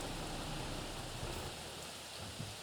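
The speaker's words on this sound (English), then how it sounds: "So I'll wait till the rain stops completely." Rain falls steadily on a farm field where a tractor and trailer are parked, a continuous even hiss of drops with no voices.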